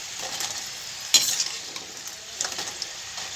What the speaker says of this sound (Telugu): కర్ర కర్ర సౌండ్ వస్తున్నాయి చూడండి